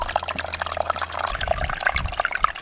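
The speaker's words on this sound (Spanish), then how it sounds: "limpiar estos canales de agua que llevan agua a nuestro depósito" Water running steadily through small irrigation ditches feeding a reservoir, a continuous close trickle and babble with bright splashy detail, heard alone without talk.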